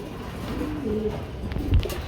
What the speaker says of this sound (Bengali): আরেক জোড়া লাহরি কবুতর ব্লু বার লেস কালার